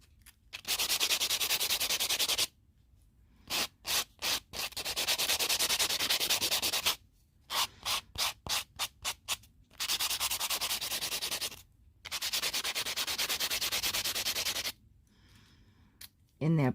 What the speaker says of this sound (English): I just use one of these coarse buffers here.